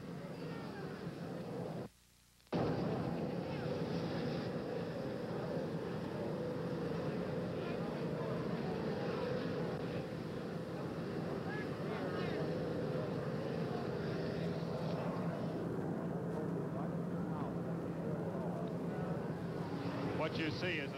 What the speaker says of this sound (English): An Army helicopter has just landed. It's making a great deal of noise.